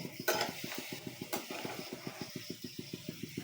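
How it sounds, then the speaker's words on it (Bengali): Vegetables being stirred in oil in a pan while cooking fish biryani: a steady, even series of scraping spatula strokes, about six per second, with a faint sizzle underneath and a couple of sharper metallic clinks early on. "নাড়াচাড়া করতে থাকবো সম্পূর্ণ তেলগুলো আমার সবজি গায়ে লেগে যায়"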